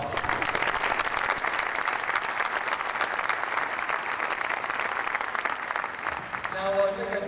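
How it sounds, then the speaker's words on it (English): Sustained audience applause fills a garden tribute gathering, a dense steady wash of clapping from many hands that carries on without a break before thinning near the end. "I want you all to give yourselves a round of applause for making this possible"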